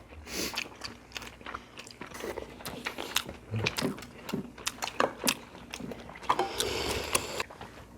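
Close, intimate chewing and biting on soft tofu sushi, a steady run of moist bites and mouth sounds with occasional crunchy clicks, heard alone without talk.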